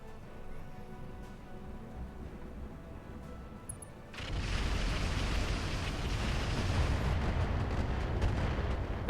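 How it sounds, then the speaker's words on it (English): An artillery barrage in the mech video game BattleTech Roguetech: a low rumble and crackle that jumps to a dense, sustained roar of overlapping blasts midway and stays loud to the end. "That was a good barrage."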